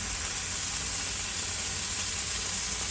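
Applewood smoked Costco bacon sizzles steadily on a preheated Blackstone griddle set to medium-low, a dense, even crackle up close with no speech.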